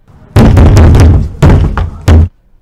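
Knocking on a back door: three loud, close bursts of rapid raps, each group separated by short pauses.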